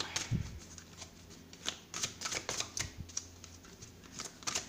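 Tarot cards being shuffled and drawn by hand, with an opening riffle followed by a steady run of crisp flicks, slaps and snaps of cards, close up and without talking.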